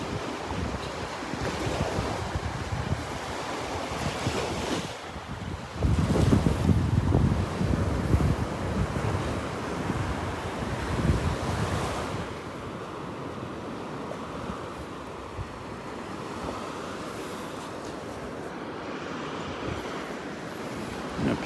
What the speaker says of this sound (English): A little breeze here when I get out in the open.